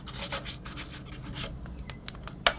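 A dirty surface is scrubbed in quick, close rubbing strokes, a rasping back-and-forth that slows toward the end, with a sharp knock at the finish.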